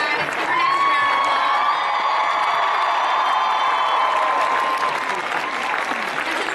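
A loud Comic-Con crowd bursts into sustained applause with cheering, whoops and shrill shouts, the roar holding steady for several seconds in a large hall.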